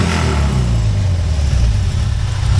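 A BMW R18 motorcycle with modified loud fishtail exhaust pipes rumbles and revs close by on a country road in the Lincolnshire Wolds, giving a deep, steady, throbbing exhaust note throughout.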